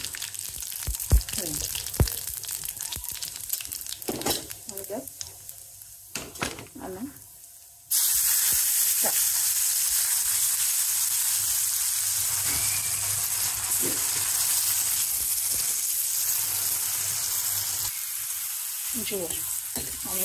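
Tempering with salt sizzles in hot oil in an iron pan: softer crackles and clatter at first, then a sudden loud, steady hiss of frying that holds close and continuous to the end.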